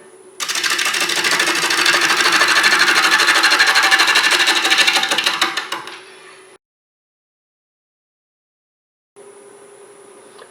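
A wood lathe spinning a rough tree log at 285 RPM, a loud steady buzzing whir with a fast rhythmic flutter that winds down and stops, then a quieter hum resumes after a pause.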